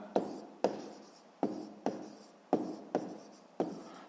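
Pen strokes on paper while working a sixth-grade math exercise, seven sharp scratchy marks at a steady unhurried pace, close and fairly quiet, with no talking.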